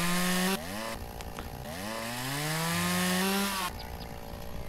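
A chainsaw cuts through wood in the video game Lumberjack's Dynasty: the engine whines loudly and climbs in pitch as it bites, shifting abruptly as the cut changes, with no speech over it.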